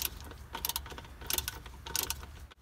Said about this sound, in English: Grab your half inch socket and ratchet and go ahead and loosen up this nut here.